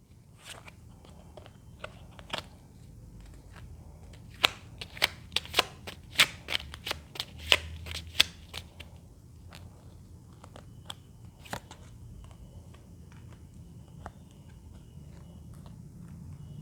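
Tarot cards shuffled by hand for a marriage and compatibility reading: a quiet, close run of crisp riffling flicks and snaps, densest in the middle stretch, over a soft low background hum, with no talking.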